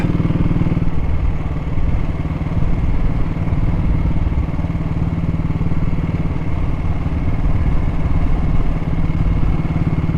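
A vintage motorcycle engine runs continuously as the bike is ridden, a loud, close, steady mechanical drone with rapid firing pulses and a faint clattery edge that holds throughout without letting up.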